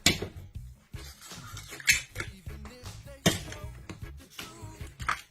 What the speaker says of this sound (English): Cut that mussel there.